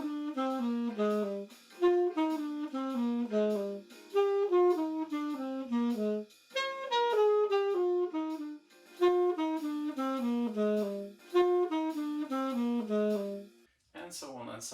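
An instrument plays a descending scale from the 9th down to the 3rd over a II-V-I progression, in repeated phrase groups with short gaps between them. It ends in a brief burst of noise.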